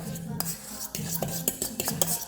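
A utensil scrapes and clinks against a dish while lime juice is stirred into food, several short rhythmic scraping strokes close by with no talk.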